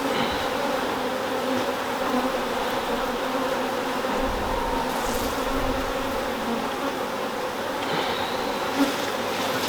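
Honey bees buzz in a dense, continuous drone, close and steady throughout with no talking.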